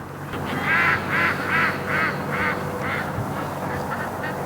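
Ducks at a lake quack in a steady series of loud, evenly spaced calls, about ten in a row, close and clear.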